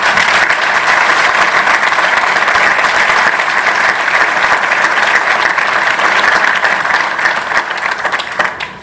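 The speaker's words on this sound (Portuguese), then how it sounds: "Peço-vos uma salva de palmas especial." Loud, dense audience applause fills a club day ceremony at Porto's Estádio do Dragão, a steady roar of many hands clapping for several seconds before it starts to fade at the end.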